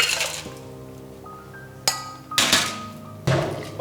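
Crushed ice clinking into a mojito glass with rum, a few sharp bright clinks and scattered rattles in bursts, close and clear, without talk.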